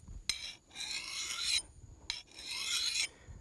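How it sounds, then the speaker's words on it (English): A hand file rasping along an axe blade outdoors to remove the burr, two long gritty strokes, each preceded by a sharp tap, close and clear with no voices. "I'm filing that burr off to get this axe sharp"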